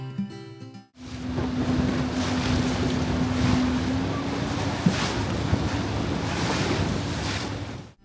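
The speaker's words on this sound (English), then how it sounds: "After boarding the craft, it was a 5-minute ride to reach the platform." Boat ride across rushing river rapids in Switzerland, a steady loud wash of water and wind with a low engine hum running through it, close and continuous.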